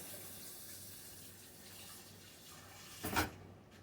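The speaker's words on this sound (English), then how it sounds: "Get some water in the pan here." Tap water running into a kitchen cooking pan, a soft steady hiss at low level through most of the stretch, swelling briefly into a louder splashing gush near the end before cutting off.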